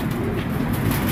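Teddy breed highflyer pigeons coo softly in a short, low murmuring stretch, close and continuous with a faint breathy background.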